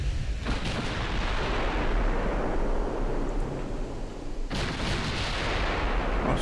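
Heavy naval gun salvo in the Ultimate Admiral Dreadnoughts warship game: a sustained, loud rumbling roar of gunfire with a second sharp blast near the end, continuous and dense throughout.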